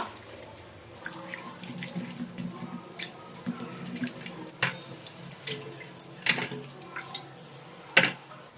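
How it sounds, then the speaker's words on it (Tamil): Citron and lemon fruits being washed in water, with splashing and dripping sounds and soft sloshing. A few sharper splashes and knocks punctuate steady running water, close by and without talk. "இதை வந்துட்டு நம்ம கழுவிட்டு வந்துடுறேன்."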